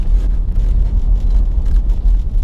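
A 1966 Plymouth Valiant rolling along off throttle with a low, steady rumble and no engine revving, quiet and even throughout.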